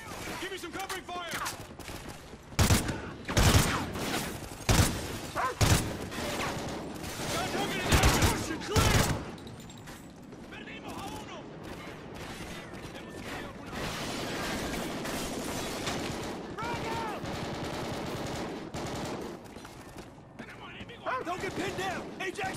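Gunfire in the video game Call of Duty Ghosts: bursts of loud automatic shots in the first ten seconds, then a steadier wash of distant firing and battle noise, with voices calling out over the combat.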